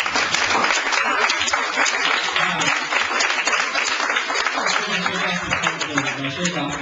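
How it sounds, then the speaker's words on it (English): A church congregation at a Sunday sanctuary service applauds two men called up front, producing a dense, continuous round of clapping that stays loud and steady throughout, with faint voices mixed underneath. "let's give them a round of encouraging applause."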